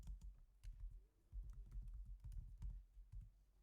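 Computer keyboard typing on a Windows 11 machine, a quick run of soft close keystrokes with uneven rhythm and a short pause partway through, quiet and without voices.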